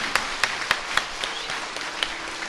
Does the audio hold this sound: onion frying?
no